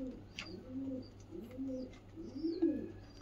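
A pair of highflyer pigeons, a male and a female, coo softly at close range in a few low, rounded, rolling phrases with faint chirps in the background.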